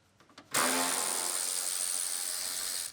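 A power tool whirs on a GMC lift gate as the rear spoiler is unbolted, starting with a few light clicks, then one loud, steady, close high-pitched drive lasting a few seconds before cutting off.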